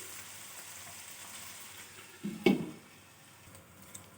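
Chicken sizzles in a pan over a low flame, a steady quiet frying hiss, with a louder scrape and clatter of stirring midway through and a small tick near the end.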